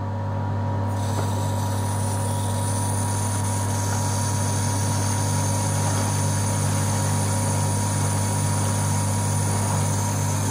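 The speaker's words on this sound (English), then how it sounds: "turn the cold water on" Cold tap water rushes steadily through a wort chiller set in hot homebrew wort, a continuous close hiss with a low mechanical hum underneath, unbroken for the full length.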